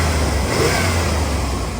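A 1963 split-window Chevy Corvette engine runs steadily at a cold start, a low, rough, continuous rumble held close and loud with no talk over it.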